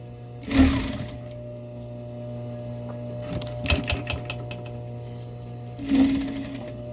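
A sewing machine stitches a zipper into a light jacket in three short bursts of rapid mechanical whirring, separated by quiet pauses, close and moderately loud.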